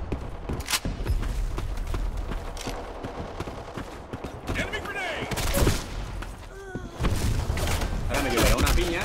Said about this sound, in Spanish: Me están disparando, tío.